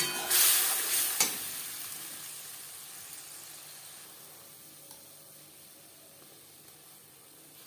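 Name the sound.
ginger, garlic, onion and tomato paste frying with cumin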